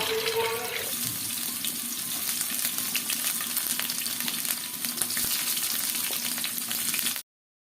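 Soaked leafy greens hit hot oil in a pan and sizzle loudly and continuously, a steady crackling hiss with scattered spatters, then the sound cuts off abruptly near the end.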